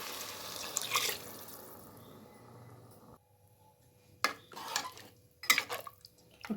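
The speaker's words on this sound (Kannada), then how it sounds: "ಈಗ ನೀರು ಆ್ಯಡ್ ಮಾಡ್ತಾಯಿದ್ದೀನಿ." Water is poured into a pot of fried rice for kabuli chana pulao, giving a steady pouring rush for about three seconds, then quieter clinks and a few sharp knocks of utensils against the pot.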